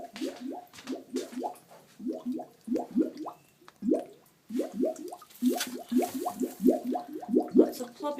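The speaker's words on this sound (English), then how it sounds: "Lots of plopping noises." Repeated wet plopping and gurgling from a toilet bowl as a washing machine discharges its water, a steady irregular run of drips and bloops that continues throughout, with faint background hum.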